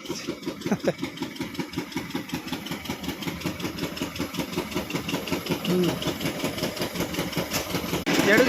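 An engine runs steadily at idle with a rhythmic low chugging, close by, with a slight rise in intensity toward the end.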